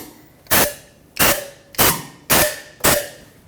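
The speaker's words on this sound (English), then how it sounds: "Blow some compressed air to make sure that nothing actually is there." Compressed air blasts out the intake runners of a 1998-2011 Ford Ranger 4.0L V6 in five short, loud, evenly spaced bursts, each a sharp hissing puff that fades quickly.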